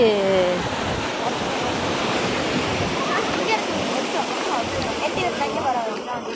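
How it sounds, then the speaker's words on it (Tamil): Sea waves wash onto a beach in Sri Lanka in a constant roaring surf, loud and close, with wind buffeting the microphone. Faint speech may sit underneath. "இன்னைக்கு கடல் வந்து சரியான மாதிரி அலை."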